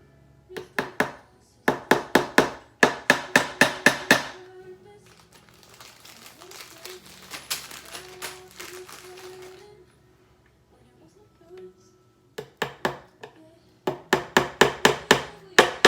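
Rapid rhythmic taps of a small hammer driving nails into wood for string art, in quick clusters separated by pauses, with some rustling and handling noise between the bursts.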